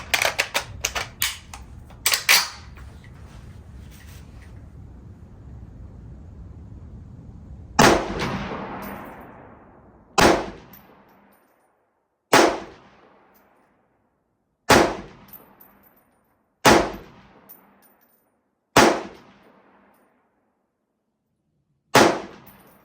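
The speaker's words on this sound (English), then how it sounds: "shooting it and reviewing the Springfield Armory M1-A Squad Scout in 308" Springfield Armory M1-A Squad Scout .308 rifle fired at a 100-yard range: a rapid cluster of loud cracks, then seven single sharp shots spaced about two seconds apart, each with a short decaying echo.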